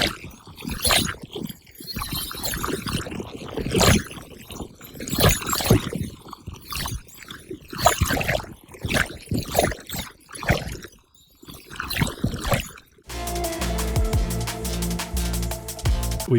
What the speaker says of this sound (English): make it seem like the liquid Verisium is whipping and swirling around